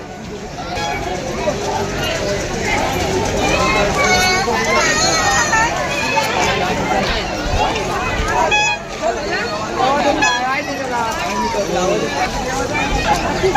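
A large, dense crowd at the Aai Bhavani temple fair in Govathane, Uran mills about with continuous babble of many voices close by, while someone talks over the bustle.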